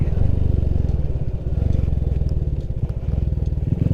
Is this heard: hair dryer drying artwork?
no